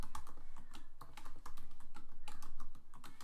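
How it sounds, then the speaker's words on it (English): Rapid clicky typing on a computer keyboard as names are entered, close and fairly quiet, a steady patter of key presses with brief pauses and no talking. "you type in a series of names"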